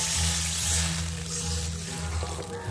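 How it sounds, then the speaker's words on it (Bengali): Water goes into a pan of fried potatoes and peas, a loud continuous rushing hiss and bubbling that holds steady and eases slightly toward the end, with no voices. "এই যে আমি এতে দিচ্ছি জল"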